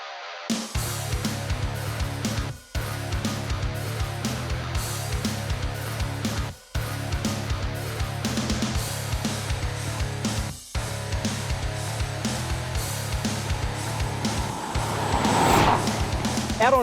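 An HSV Maloo R8 LSA ute accelerates hard on a public road, a loud sustained engine drone rising through the gears with brief dips at each shift and a surge near the end.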